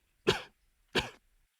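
Two short, dry coughs from a video game character in Ever17, evenly spaced about two thirds of a second apart, close and clear against silence.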